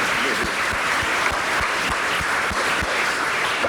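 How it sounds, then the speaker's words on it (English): A university audience gives a sustained round of applause, dense steady clapping filling the room at an even level throughout. "let's give her a round of applause for what she does"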